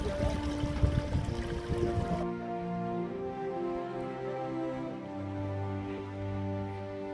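Spring water gushes out from under a rock at Fontana Sette Laghi, a close, rushing splash for about two seconds before it cuts off into a low, steady hum.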